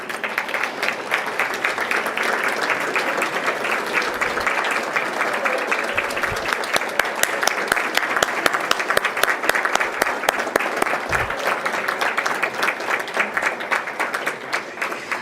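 A large audience at a scholarship gala gives sustained applause, dense and even clapping that fills the room for a long stretch with no voices over it.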